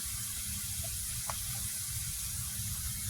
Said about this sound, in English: we're gonna get our minced garlic in there